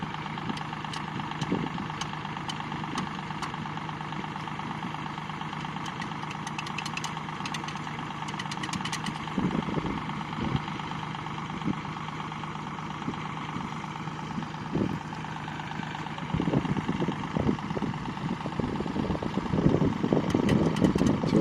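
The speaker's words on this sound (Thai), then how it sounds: "สามหกศูนย์แปดนะครับ จะมาช่วย เจ้า L ห้าศูนย์หนึ่งแปดนะครับ" Kubota L3608 tractor engine idling steadily during a rescue of a stuck Kubota L5018 in a muddy rice field, a continuous low diesel rumble with knocking pulses that thicken toward the end.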